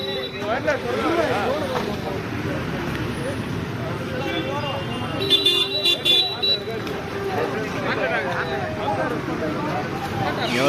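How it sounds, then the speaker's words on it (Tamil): Busy street noise in Tiruvottiyur, Chennai, with engines rumbling and a car horn tooting, a crowd's chatter and voices mixed in throughout. "டிராஃபிக் ஆகிட்டு இருக்கு பாருங்க"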